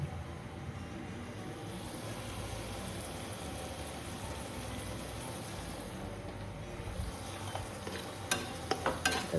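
Kerala-style tuna curry with kudampuli stirred in a pan, a steady, dense bubbling and scraping texture that runs throughout, ending in a few louder knocks of the spoon against the pan.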